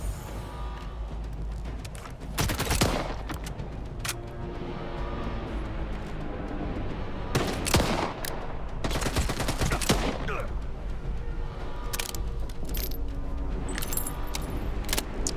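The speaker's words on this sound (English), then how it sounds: "Friendly fire! Yeah, you heard him. Friendly fire." Friendly gunfire in a video game firefight comes in loud, sharp bursts and volleys spaced across a steady background din.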